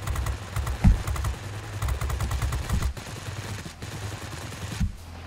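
Aircraft machine guns in a World of Warplanes dogfight with an Arado 68 fighter, firing in rapid dense bursts with a brief louder crack near the start, sustained rattling broken by short pauses, loud and close, with no voices.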